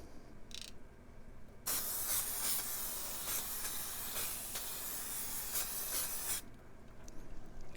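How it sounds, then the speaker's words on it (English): Hydro dipping activator is sprayed indoors in a steady hissing aerosol burst that runs for about five seconds after a few short preliminary puffs, loud and close, then cuts off abruptly. "I'm going to spray the activator."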